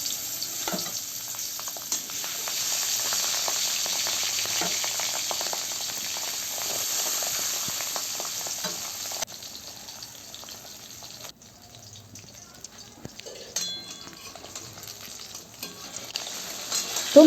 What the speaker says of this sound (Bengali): এবার মাছটা ভেজে নেব।